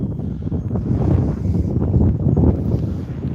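Gusty wind buffets the microphone outdoors while an E-flite UMX A-10 Thunderbolt II RC plane flies in windy conditions, a loud, continuous low rumble that rises and falls throughout.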